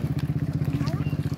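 Motorcycle engine laboring on a very steep mountain road in Nueva Vizcaya, a steady close rumble with a fast regular pulse throughout.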